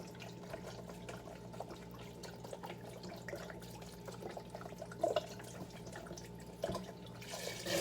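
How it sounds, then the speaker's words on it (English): Chicken bone broth is poured from a container into a soup pot, giving a steady, soft liquid splash and trickle with a few faint clinks, close and alone, without speech. "So now I'm going to add a whole thing of bone broth."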